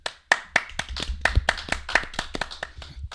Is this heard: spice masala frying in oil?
no